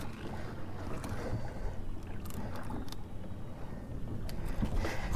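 Gusty wind buffets the microphone on open water from a fishing boat, a continuous rough rumble with occasional sharper bursts.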